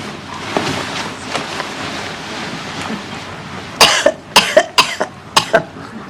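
A burst of several sharp, harsh coughs in quick succession, close and loud, following a stretch of quieter background noise.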